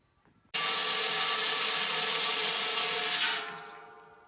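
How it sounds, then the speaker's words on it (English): Tap water from a potable water hose gushes into a metal brewing kettle for a porter brew day, starting abruptly with a loud steady splashing rush whose pitch shifts as the kettle fills, then easing off near the end. "I can just get the water straight into my kettle."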